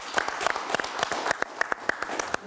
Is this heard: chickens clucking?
no